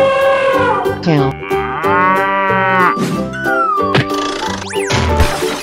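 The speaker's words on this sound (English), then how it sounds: "Cow." A cow moos in a long, loud, drawn-out call that wavers in pitch, heard close and alone over about five seconds with a few sharper accents near the end.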